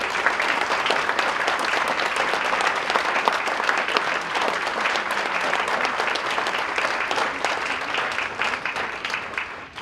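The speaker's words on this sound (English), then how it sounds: "Would you join me in a round of applause?" An audience at a Legacy Trust luncheon gives a round of applause for event staff, a loud, steady burst of dense clapping that holds for about ten seconds before tapering at the end.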